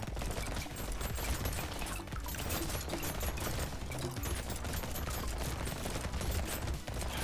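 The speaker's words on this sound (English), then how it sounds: "I've got a minigun" A minigun in the arena shooter Brotato fires a dense, unbroken stream of rapid shots, a steady mechanical clatter at fairly low volume with no talking.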